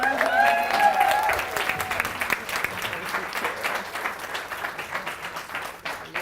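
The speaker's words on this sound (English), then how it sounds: "Give a round of applause." A crowd applauds steadily for a keynote speaker, a dense wash of clapping that tapers slightly toward the end, with brief voices mixed in at the start.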